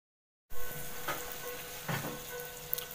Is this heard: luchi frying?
yes